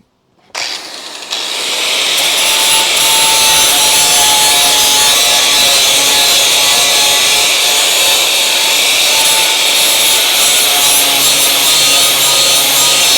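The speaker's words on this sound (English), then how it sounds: "We already have the grinding wheel on," A grinding wheel takes metal off the body of a Crew Cab Charger under restoration, a loud, steady, harsh grind that starts abruptly after a brief silence and runs continuously, close and alone.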